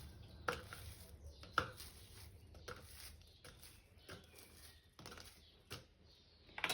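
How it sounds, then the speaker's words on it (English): A knife cuts bread into pieces, with soft irregular chopping taps on a board, faint and close, separated by quiet gaps. "So we cut the bread into pieces"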